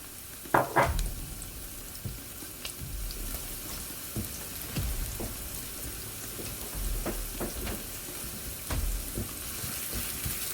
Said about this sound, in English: now we're going to cook the onions for about 30 seconds